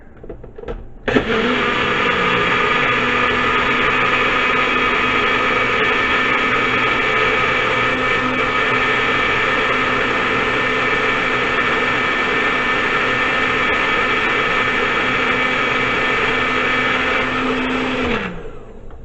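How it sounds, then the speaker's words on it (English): A blender whirs continuously as it purees aloe with about a cup of water, a loud steady motor drone starting after a second and running almost to the end before winding down. "And we're going to blend it up for a little bit."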